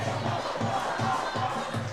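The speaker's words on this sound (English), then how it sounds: "this hometown crowd is fired up" A hometown crowd at a Friday night high school football game between Spearfish and Aberdeen Central roars and cheers from a distance, a continuous dense wash of voices.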